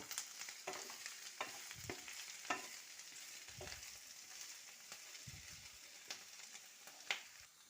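Garlic cloves, small ginger pieces and green chillies fry lightly in a pan, a soft sizzle broken by repeated spatula scrapes and taps at an uneven rhythm, fairly quiet and close.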